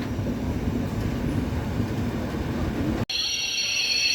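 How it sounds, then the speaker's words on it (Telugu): A goods train rumbles past near Bhuvanagiri railway station, heard from aboard an Intercity Express running from Secunderabad to Guntur. It is a loud, continuous, close roar for about three seconds, then the sound cuts abruptly to a quieter, different scene. "మళ్ళీ ఒక గూడ్స్ వచ్చింది."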